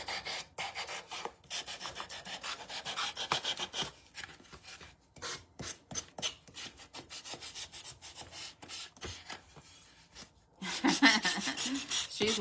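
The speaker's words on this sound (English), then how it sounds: "I didn't finish sanding this" Hand sanding of a rustic wooden wall sconce, a close, steady rasp of sandpaper on wood in repeated strokes with brief pauses, continuing alone for the length of the passage.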